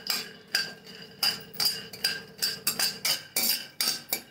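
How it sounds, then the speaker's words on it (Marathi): Peanuts dry-roasting in a kadhai on a gas stove, stirred steadily: close, sharp metallic scrapes and clinks repeating roughly twice a second with no talk. "आता गॅसवरती कढई ठेवली आणि शेंगदाणे भाजून घेऊया आपण"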